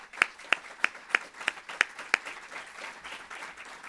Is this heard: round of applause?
yes